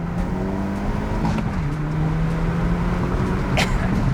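A tuned 2022 Hyundai Elantra N with a Stage 1 tune and about 20 psi of boost holding a steady engine drone that rises slightly in pitch, loud and close, with a brief sharp sound near the end.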